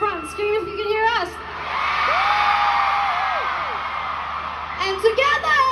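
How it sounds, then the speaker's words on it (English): Arena crowd screaming at a concert tour show in Abu Dhabi, a loud roar of yells and whoops rising after an amplified voice and lasting several seconds before talk returns. "Everyone in the front, scream if you can hear us!"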